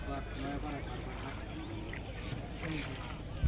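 A small boat glides along a river with a low, steady rumble of water and wind against the hull, while people chat quietly throughout.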